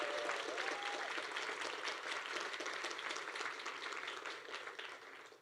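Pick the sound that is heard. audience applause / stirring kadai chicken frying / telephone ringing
audience applause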